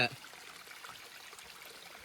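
Continuous rushing water from Moolakona Waterfalls, a steady broadband wash with no break, heard fairly faintly after a brief opening sound.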